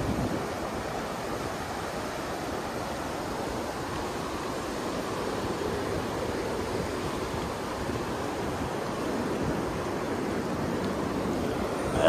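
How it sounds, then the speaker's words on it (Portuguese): Sea waves at Praia Grande beach, a continuous broad wash of surf rolling in steadily, fairly loud and unbroken, with no voices. "É o som do mar"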